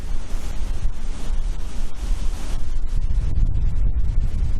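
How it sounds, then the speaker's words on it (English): Strong outdoor wind buffets the microphone in a steady, loud broadband rush throughout, gusting slightly toward the end, with no talking heard. "Goodness me, where on earth has this wind come from?"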